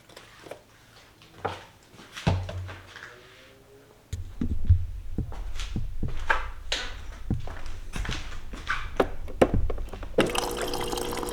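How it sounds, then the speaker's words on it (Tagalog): Water is poured into coffee concentrate in a cup, a steady close trickle with small drips and clinks, ending in a brief louder hiss. "Tapos lalagyan lang natin ng tubig."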